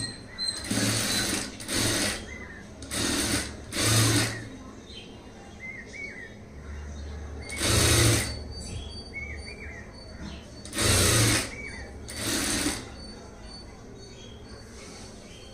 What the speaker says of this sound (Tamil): அதனால் நம்ம இழுக்கவே வேண்டாம், அப்படியே தையல் போட்டுடலாம்.